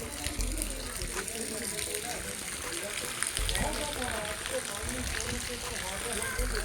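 Rainwater rushes and gushes steadily as it floods and pools in front of a village shop during a summer downpour, a continuous broad wash of flowing water with patter mixed in, close and fairly loud throughout.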